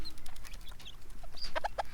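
Small young roosters clucking in a pen, a few short soft clucks, then three quick louder calls near the end, close by and without talk.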